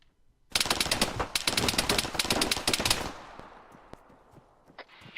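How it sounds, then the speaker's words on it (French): Rapid bursts of gunfire in a combat setting, loud cracking volleys of automatic shots over a couple of seconds, then fading to scattered distant pops. "Vous avez des tirs qui viennent de la droite"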